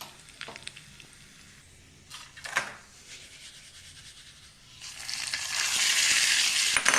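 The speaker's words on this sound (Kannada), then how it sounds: "ಈಗ ಒಗ್ಗರಣೆ ಫ್ರೈ ಆಗ್ತಾ ಬಂತು" Mustard seeds fry in hot oil for a tempering, starting with faint crackles and a couple of sharp pops, then building into a loud, steady sizzle that fills the last two seconds.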